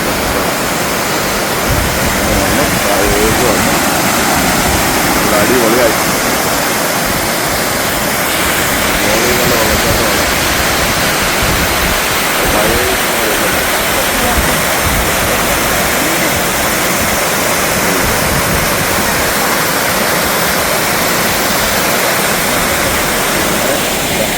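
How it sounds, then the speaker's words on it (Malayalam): A waterfall beside Gap Road in Munnar roars steadily. The dense, constant rush of falling water stays loud and unbroken throughout, with no other distinct sounds. "ഗ്യാപ്പ് റോഡിൽ കണ്ട ഒരു വെള്ളച്ചാട്ടമാണത്"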